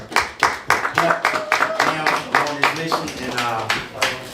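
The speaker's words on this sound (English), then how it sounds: "Thank you for your service. Clap it up." Audience at a live podcast show claps for a military veteran, rhythmic distinct handclaps in a steady beat while people talk and voices carry over the clapping.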